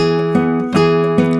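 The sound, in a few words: acoustic guitar fingerpicked measure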